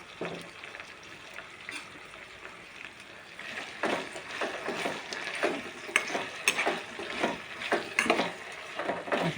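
Ivy gourd (tindora) fry with onions is stirred in a pan, quiet frying hiss punctuated by irregular scraping and clinking of a utensil against the pan, growing busier and louder in the second half.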